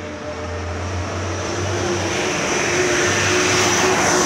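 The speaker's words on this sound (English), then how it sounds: "Oh, that airplane's a sneaky little bastard." Airplane passing overhead, a steady loud engine drone with a pulsing low hum that builds gradually over a few seconds, heard alone without talking.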